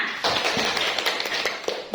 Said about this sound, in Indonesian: Beri tepuk tangan untuk Rina.